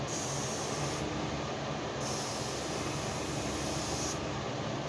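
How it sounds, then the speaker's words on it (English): Awlcraft clear coat sprayed from a spray gun onto an RC pylon racer fuselage, a loud steady airy hiss that keeps going without a break, slightly changing in tone as the gun moves. "So you can see I'm spraying much slower now."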